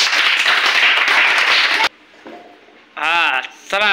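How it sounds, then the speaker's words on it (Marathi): Children in a classroom clap their hands together in a dense, loud burst lasting about two seconds; after a short pause, a voice speaks. "चला टाळ्या वाजवा"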